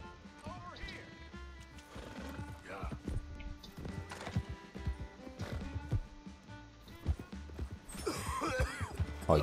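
Horse hooves clip-clop and a horse whinnies in Red Dead Redemption 2, the steady hoofbeats running throughout with a louder burst of neighing and commotion near the end, under a busy game soundscape with some voices.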